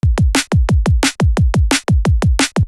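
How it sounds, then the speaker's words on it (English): A punchy kick drum thumps in a steady, rapid pattern, a repeated kick in place of the snare in a jump-up drum and bass beat, with a few hits carrying a bright noisy crack on top, loud and up front. "It's basically just a repeated kick,"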